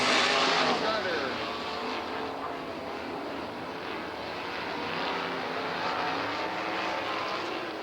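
Race cars in a ten-lap qualifying race at Southern Oregon Speedway, a continuous loud engine roar that is strongest at the start and then holds steady, with voices faintly underneath.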